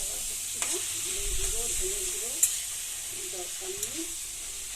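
Kochu shak (taro greens) with chickpeas and coconut being stirred in a frying pan, a steady sizzle with scraping strokes of the spoon under a voice talking throughout.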